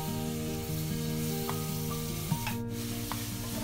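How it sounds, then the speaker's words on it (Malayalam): Onion, ginger, garlic and tomato sauté in a pan for a Kerala-style chicken curry, giving a steady, continuous sizzle with a few faint stirring clicks and a low hum underneath, no voices. "ഇനി അതിൻ്റെ പച്ചമണം മാറുന്നത് വരെ ഒന്ന് വഴറ്റി കൊടുക്കുക."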